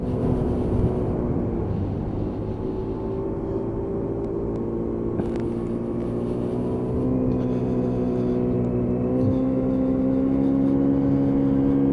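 A Lexmoto Echo Plus motorcycle rides on the road at about half throttle and 25 mph, its engine giving a steady, close droning hum with wind rush and no obvious changes in pitch.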